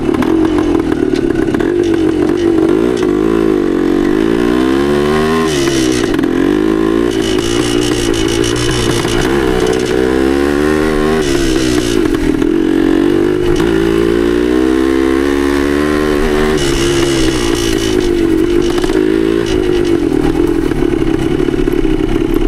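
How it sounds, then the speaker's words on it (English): A 1972 Yamaha DT2 enduro motorcycle ridden in third gear, its engine loud and close with a continuous chugging two-stroke drone that rises and falls in pitch as the rider rolls on and off the throttle. "This bike has a lot of good grunt, low end. I'm in third gear right now. And it just will chug through no problem."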